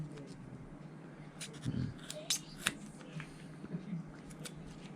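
Scissors or a blade trimming excess leather and rubber off a red patent Christian Louboutin shoe during repair, a few faint crisp snips close by with quiet room noise.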